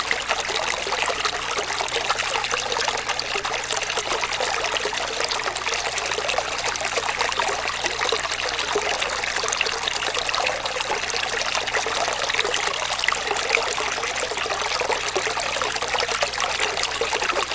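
Water sloshes and trickles continuously as a gold pan is swirled while prospecting in Gippsland, Australia, a steady close splashing with no talk.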